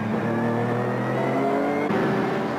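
Several SUPER GT GT500 and GT300 race cars share the track at Okayama, engines roaring loud and steady with a faint whine, the note shifting as the cars run past.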